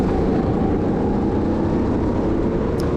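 Go-kart engine racing on a karting track during a Mini GP race: a continuous, buzzy small-engine drone, lawnmower-like and fairly close, holding steady at high level without a clear rise or fall, no voices.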